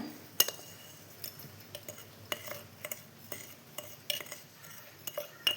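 Sugar stirred into melted butter in a pan while making custard cookies: a utensil scrapes and taps the pan in scattered light knocks, quiet and close, with a soft rustle between strikes.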